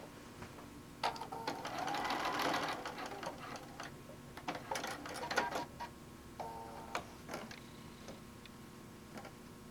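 A sewing machine stitching a quilt tack on a quilt top, a quiet run of fast mechanical ticking and whirring that swells briefly, then gives way to scattered clicks and taps.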